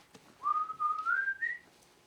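A person whistles a short, casual rising tune, a single clear sustained note line that climbs in pitch over about a second, close and alone against a quiet background.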